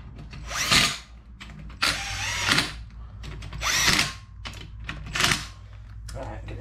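Bolts on a GM rear differential being snugged down with a hand tool in several short bursts of ratcheting and clicking, close by, separated by brief pauses, with a low hum underneath.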